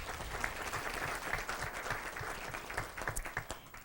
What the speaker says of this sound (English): let's give him a round of applause anyhow